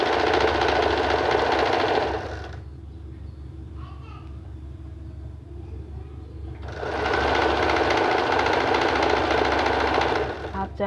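A sewing machine stitches shorts in loud bursts of rapid mechanical whirring, pausing for several seconds in the middle before running again, with faint talk in the quiet gap.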